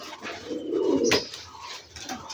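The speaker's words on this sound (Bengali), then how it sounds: "যে ভাই আরো দুইটা কালো কবুতর বের করে নিয়ে আসছে" Rajshahi Giribaz pigeons give low, throaty coos close by, swelling and fading in soft rolling phrases, with a brief sharp click partway through and no talking.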